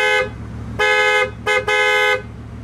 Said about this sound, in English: What does a horn sound like in the Bugatti Veyron?